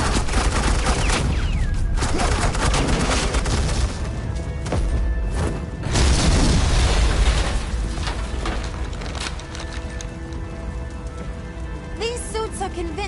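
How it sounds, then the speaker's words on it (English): Heavy video-game gunfire laid down as suppressing fire, a continuous loud wash of rapid shots and impacts that barely lets up, with occasional louder booms standing out near the middle. "Suppressing fire."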